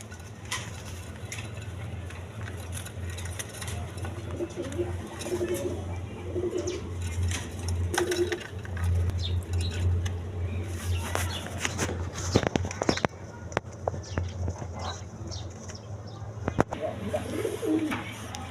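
A pair of pigeons at a pigeon farm, soft repeated low coos near at hand over a steady background hum, with scattered footsteps and handling clicks, and a faint voice in places.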